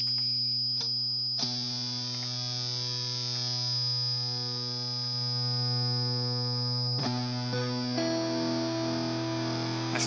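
A sustained electric guitar tone runs through a ring modulation effect on a BOSS GT1000, giving a steady metallic, buzzy drone with a faint hum, with a couple of note changes partway through and no talking.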